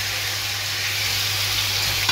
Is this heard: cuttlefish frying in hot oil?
yes